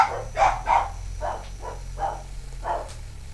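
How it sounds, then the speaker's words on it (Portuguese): A dog barks in a string of about seven short, mid-pitched barks spaced fairly evenly, close by over a low steady hum. "Olha o cachorro."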